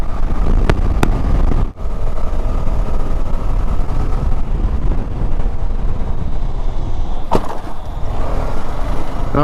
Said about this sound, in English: we went over a really nasty part of the road and this bike did pretty well